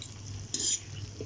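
Chatpata noodles are stirred and mixed in a pan over a low hum, with one brief bright scrape or clink of the utensil against the pan.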